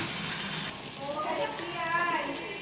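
A paste of ginger, garlic, whole cumin, dried red chilli and green chilli sizzles and spits in hot oil in a pan, a steady bright frying hiss close by, with a faint voice now and then.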